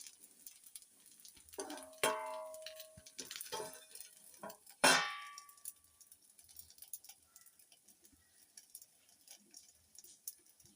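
Green gram kara paniyaram cook in a paniyaram pan with soft crackling sizzles and a few louder bursts of frying, then settle into faint, sparse ticking pops.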